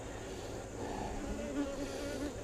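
Honeybees buzz steadily throughout a hive inspection, a dense close-up drone with no talk.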